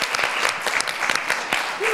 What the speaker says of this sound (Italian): faccio un ulteriore applauso se non l'hanno sentito bene prima